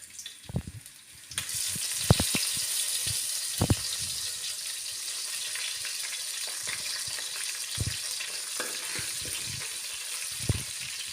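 Coconut pieces, dried red chillies and curry leaves fry in hot coconut oil, a loud steady hiss that flares as they drop in and continues with occasional stirring knocks, no voices.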